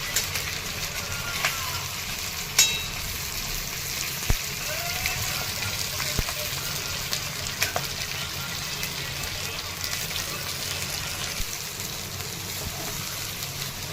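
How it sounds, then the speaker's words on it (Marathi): Stuffed green chillies shallow-frying in oil over low heat, giving a steady soft sizzle with scattered pops and a few sharper clicks throughout. "आता परतून घ्यायच्या तेलामध्ये कमी गॅस करून"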